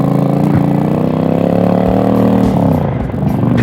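A 2001 Honda Shadow Ace motorcycle engine while riding, a loud, steady mid-pitched rumble that shifts in tone partway through, with wind noise and no talk.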